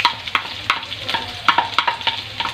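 Garlic and onions frying in a pan with a steady, close sizzle, broken by sharp, repeated scrapes and taps of a stirring utensil.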